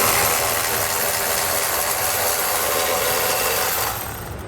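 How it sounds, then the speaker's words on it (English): A 9/16 socket on a ratchet working a tow hook bolt through the frame rail of a 2019 Mitsubishi Outlander, a dense continuous rapid clicking and whirring that stays loud and close before easing off at the end. "We're going to take a 9/16 socket. We're going to have a bolt on the outside of the frame rail that runs all the way through."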